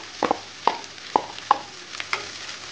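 Chopped snake gourd being sautéed in a pan: sparse, sharp scraping clicks of a spoon stirring, about six strikes spread irregularly over a faint, low sizzle.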